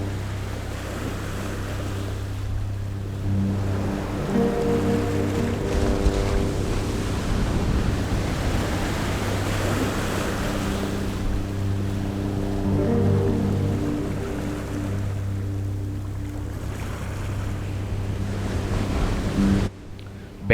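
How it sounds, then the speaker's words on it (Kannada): Jog Falls in Shivamogga, Karnataka, India's second-highest waterfall, thunders in a continuous broad roar during the monsoon, with a sustained tonal hum running through much of it and a sudden drop at the very end. "ಭಾರತ ದೇಶದ 2ನೇ ಅತಿ ಎತ್ತರದ ಜಲಪಾತ ಇದಾಗಿದ್ದು"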